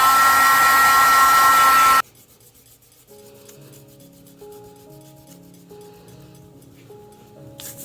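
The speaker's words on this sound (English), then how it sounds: "I'm going to give this a blast with the heat." A heat tool blows hot air over a mixed media index card in a loud, steady roaring blast for about two seconds, then cuts off abruptly, leaving quieter background music.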